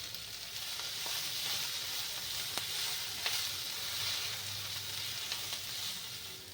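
Cauliflower and onion stalks fry in a pan with a steady, even sizzle that stays at one level throughout, broken only by a few faint clicks and scrapes.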